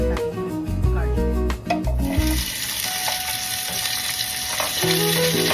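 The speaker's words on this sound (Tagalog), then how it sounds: "Iigisa lang po natin sa mantika. And after that, ihulog natin yung garlic." Garlic sautéing in hot cooking oil, a pork and dried shrimp vegetable dish underway, gives a steady loud sizzle with stirring scrapes and clatter near the start, continuing alone throughout.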